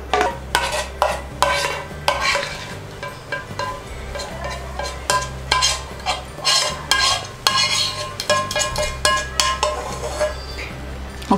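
Fruit custard being scraped and transferred into another bowl, with repeated spoon clinks and scrapes against the dish in an uneven rhythm, close and fairly clear.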